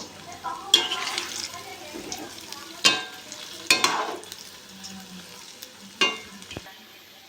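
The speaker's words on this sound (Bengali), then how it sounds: "তেলটা গরম হয়ে গেছে আমি এবার বড়া ভেজে নেবো" Palm-fruit fritters made with maida fry in hot white oil, a close, steady sizzle punctuated by several sharp, loud bursts of spattering as the fritters are dropped in or turned.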